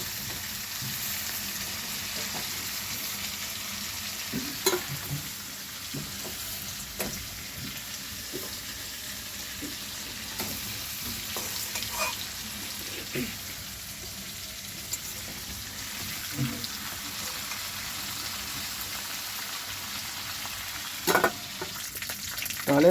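Chicken meat frying lightly in oil for chicken kosha keeps up a continuous soft sizzle, with occasional crisp clicks and spatters from stirring through the long stretch.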